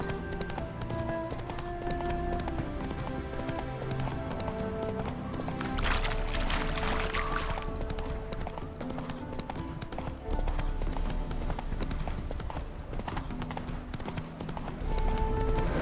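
A horse's hooves clip-clop at a steady trotting rhythm in the video game The Witcher 3, continuous and moderately close, layered under game music and ambience.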